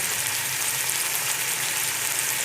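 Masala frying in a pan with chili powder, salt and turmeric over low heat, a steady close sizzle and crackle that holds without a break, with no talk.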